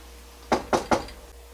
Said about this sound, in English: Knock on wood.